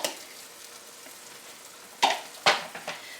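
Beaten egg poured into a hot pan for breakfast, a soft steady sizzle that erupts into loud hissing bursts as the liquid hits the metal, followed by smaller crackles, close up and with no speech.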